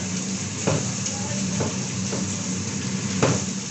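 Onions and garlic sautéing in a pan, a constant close sizzle broken by a few sharp scrapes and taps of a spoon stirring against the pan.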